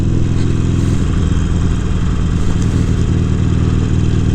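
Loud, steady motorcycle engine drone heard from the rider's position while moving, with constant low rumble and wind noise throughout and no talking.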